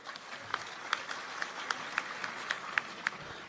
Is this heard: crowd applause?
yes